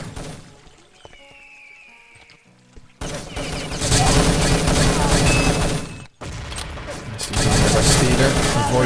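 Rapid gunfire from a competitive shooter video game match crackles in dense, loud bursts, broken by a brief pause, alongside quieter game sounds before it starts.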